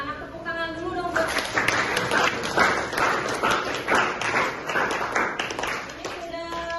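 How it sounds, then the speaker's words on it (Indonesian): Schoolchildren in a classroom clap their hands together in a lively burst lasting a few seconds, with a teacher's voice audible at the start and end. "tepuk tangan dulu dong buat"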